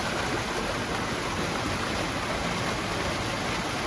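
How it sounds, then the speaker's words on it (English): Steady, dense rushing of water from a small waterfall in a woodland stream in autumn, close and unchanging, a constant broadband splash with no voices. "Something very fascinating about just watching a small waterfall like this."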